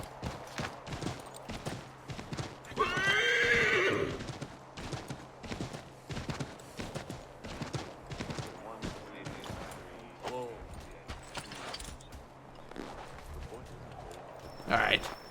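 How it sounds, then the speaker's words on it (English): Hooves clip-clop repeatedly with a brief horse whinny partway through, mixed with Assassin's Creed III game sound effects and people talking over it. "Horse. Seriously."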